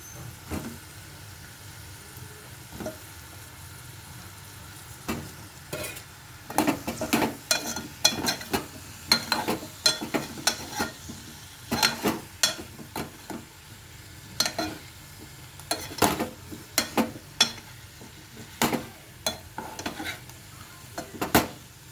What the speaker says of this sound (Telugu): స్వీట్ పొటాటో ముక్కలు కూడా వేసేస్తున్నాను